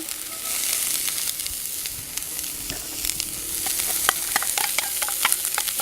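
Onion sizzles and crackles as it fries in small Uniflame Sierra cups on a camp stove, a steady close hiss broken by sharp pops and the occasional scrape of stirring.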